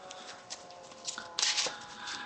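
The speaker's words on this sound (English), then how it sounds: "I'm going to do a quick shuffle and show you a practice hand." A small stack of Pokemon trading cards is riffled and shuffled by hand, giving quick soft fluttering bursts at an uneven rhythm, close and quiet with no talking.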